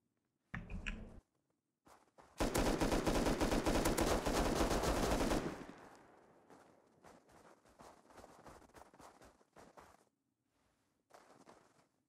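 Rapid automatic gunfire in the video game Rust rattles in a sustained loud burst for a few seconds, preceded by a short earlier volley and followed by scattered quieter clicks and shots.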